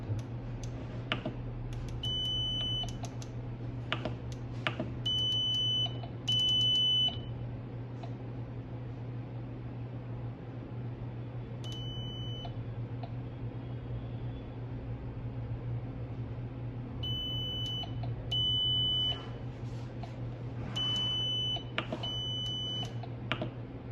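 A TM 2007P biphasic defibrillator with printer emits repeated short electronic beeps in irregular clusters over a steady low mains-like hum, close and clear, with no voices during the tones.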